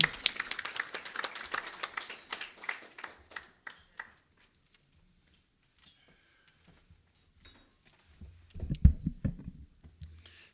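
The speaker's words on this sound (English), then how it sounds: "Could you give him a round of applause" A small audience at a procurement partnership engagement gives a faint, scattered round of clapping. It dies out after about four seconds, and a speaker's voice follows after a pause.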